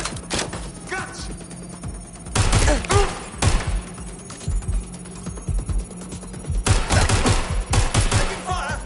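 Video game gunfire on a PS4 bursts in loud, close volleys and rapid automatic strings, with brief pauses between clusters of shots.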